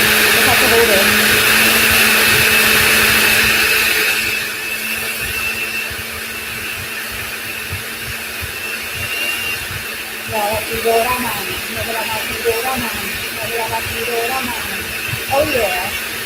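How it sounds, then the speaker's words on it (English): A loud whirring blender motor runs at first, then drops in pitch and strains under a load, with someone talking over it intermittently. "I don't know why blender is doing this."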